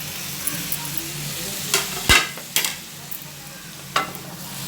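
Tomatoes sizzling in a pan with chilli powder while cooking mutton with fenugreek, a steady low frying hiss broken by a few sharp clatters and stirring knocks, close and alone without talk.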